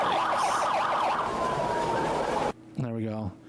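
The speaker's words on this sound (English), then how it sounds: "kill your siren, dog" A wailing police siren sweeps up and down for a couple of seconds, then winds down and cuts off, followed by a brief spoken voice.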